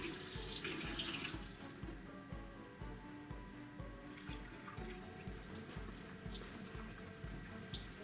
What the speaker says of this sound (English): So I'm going to go over to my sink and get my water.